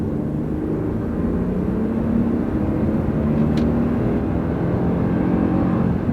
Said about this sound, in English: We'll put it down a couple gears. We'll put it in third gear. Step on it.